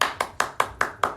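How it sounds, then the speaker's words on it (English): Six sharp, evenly spaced hand claps ring out about every fifth of a second, crisp and close in a quiet room during a spiritual talk in Vrindavan. "We clap."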